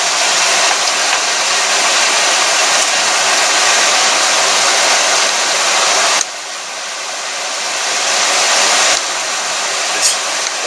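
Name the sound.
electric fan running on low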